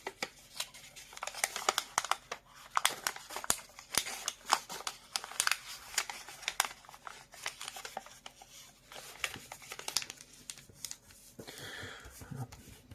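Origami paper is folded and creased into a rhinoceros, with close, dry crinkles, taps and rustles scattered irregularly throughout.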